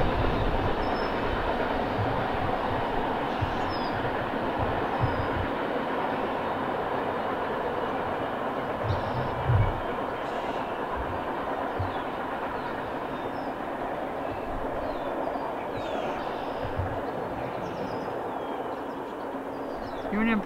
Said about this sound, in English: Union Pacific tanker train